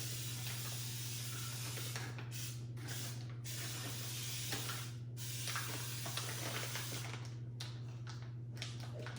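A steady hiss of spray runs throughout, with a constant low hum beneath and a few brief pauses in the spraying.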